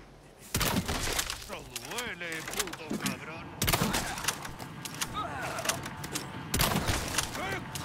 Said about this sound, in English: could just shoot the guy in the face